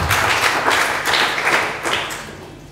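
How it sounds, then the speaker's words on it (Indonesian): Scattered clapping from a church congregation during a sermon, a loose crowd of hands patting at a moderate level with uneven bursts and no voices over it. "Kasih tepuk tangan untuk Tuhan Yesus"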